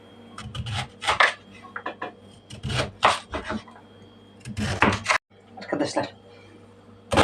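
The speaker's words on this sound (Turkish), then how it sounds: "pancarlarımı şekil vericiyle doğruyorum böyle" Beetroot chopped on a board with a shaping cutter for a salad, irregular crisp scraping and cutting strokes at close range, interleaved with someone talking.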